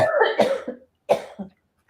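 Two short, close coughs, the first a rough double burst and the second a brief hack after a pause.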